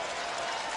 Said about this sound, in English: You hear the groan in the crowd.